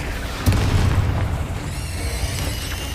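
Confringo blasting spell cast in the Hogwarts Legacy game, a single loud booming burst that hits sharply, then rumbles and fades into a ringing magical shimmer.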